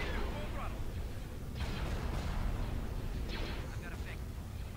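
Starship weapons firing in a Star Wars space battle, rumbling bursts and booming shots under a constant low engine roar, with a couple of brighter blasts standing out.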